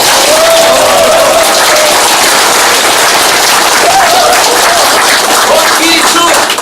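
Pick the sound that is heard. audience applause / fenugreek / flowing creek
audience applause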